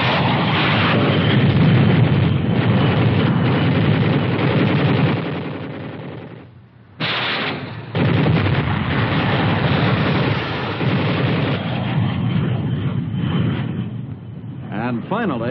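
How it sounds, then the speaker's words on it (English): Aircraft strafing with machine guns and rockets in a 1957 US Army armored combat demonstration, heard as dense continuous gunfire and rocket blasts, loud and sustained, with a brief drop near the middle and narration running underneath. "The next flight uses machine guns and rockets."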